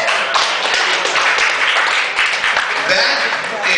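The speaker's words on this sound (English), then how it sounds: "Give yourself a round of applause." A crowd claps steadily and fairly loudly, a dense patter of applause lasting the whole stretch.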